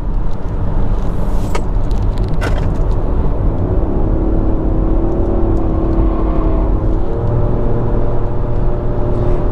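Nissan Qashqai e-Power driving at speed, its generator engine giving a steady, loud interior rumble and whir with a rising tone partway through, continuous throughout with no talking.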